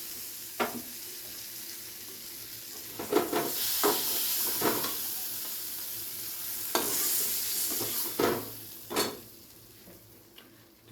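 Fried prawns are lifted out of a frying pan over a soft hiss of oil. Several sharp metal scrapes and clinks from the utensil against the pan come at irregular intervals.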